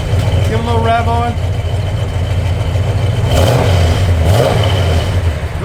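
A 1969 Chevrolet Chevelle SS engine idles loudly up close, then revs up twice, the pitch rising and falling, with someone speaking over the start.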